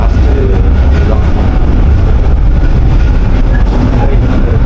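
Inside a small Italian tram running at modest speed through city streets in Turin, a loud continuous low rumble and rattle of wheels and carriage.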